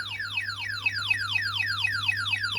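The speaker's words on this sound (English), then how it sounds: "it's an alarm." Security alarm system going into alarm, sounding a rapid, repeating falling electronic whoop tone, loud and steady, with a low hum underneath.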